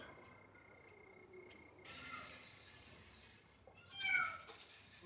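A cat meows faintly in a quiet night scene of an Arabic-language comedy film, with a soft drawn-out cry that swells near the end over a low background hum.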